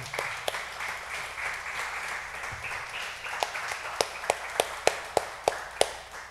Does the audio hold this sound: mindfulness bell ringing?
no